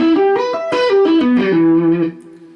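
Electric guitar picking a basic minor triad arpeggio, about a dozen clear single notes rising and falling in quick succession, loud and close with light effects, ending on a ringing note.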